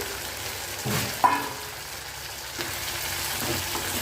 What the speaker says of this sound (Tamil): நல்லா கத்திரிக்காய் நல்லா வதங்கி வரட்டும்